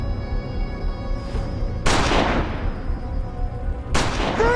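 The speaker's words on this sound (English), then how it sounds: "I thought the gunfire was directed at me." Two sharp, loud gunshots, one near the two-second mark and another about two seconds later, over a steady rumbling background with a high ringing tone.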